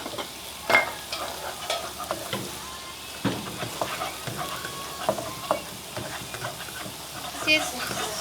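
Vegan food with chili fries in oil, a steady sizzle punctuated by repeated scraping and clacking as it is stirred close by.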